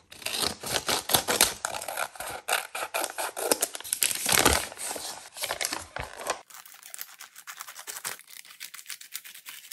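Scissors cut apart washed plastic snack packaging bags up close, with dense crinkling and crackling of the plastic and sharp snips, loud at first and then quieter and sparser toward the end.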